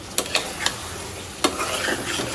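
Curry stir-fried in a pan, a continuous sizzle broken by several sharp scraping strokes of a spatula, close and fairly loud.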